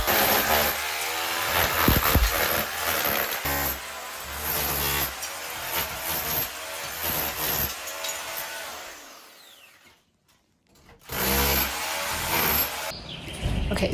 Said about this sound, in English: Time to take out the tiles, and for that we're bringing out the hammer drill.